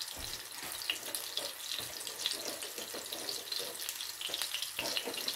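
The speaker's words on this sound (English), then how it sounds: "and wash the dishes" Dishes being washed at a kitchen sink under a running tap, with a steady stream of water and scattered clinks and splashes, close and alone without talk.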